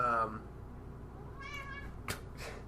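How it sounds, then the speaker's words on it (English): A house cat meows faintly in the background, two or three short calls spread across a couple of seconds beneath a quiet room tone, after a brief burst of talk at the start. "It's actually my cat."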